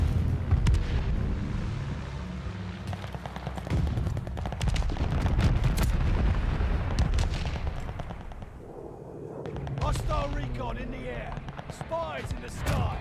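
Shots and battle noise in Call of Duty Vanguard, with sniper fire among sharp cracks and rumbling explosions in a busy, loud mix beneath a talking voice.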